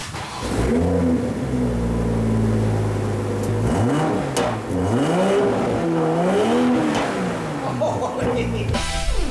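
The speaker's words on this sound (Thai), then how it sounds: "จอดเบิ้ลเครื่องเนี่ยนะครับ เสียงดังลั่นพอสมควร" A parked BMW G20 M340i LCI has its engine revved repeatedly: loud, close blips that rise and fall in pitch over a steady idle, with a couple of sharp surges near the end.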